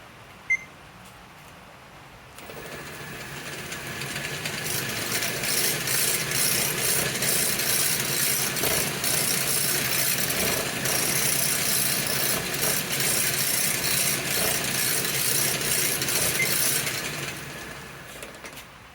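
Homemade budget 2x72 belt sander with freshly sanded wheels switched on, its motor spinning up after a couple of seconds into a loud, steady whir with rhythmic belt flutter, then winding down near the end.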